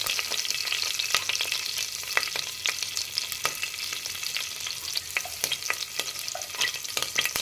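Mustard seeds, urad dal and chopped green chillies fry in hot oil with a loud, dense crackle and sputter, constant popping spitting over a busy sizzle, no voices.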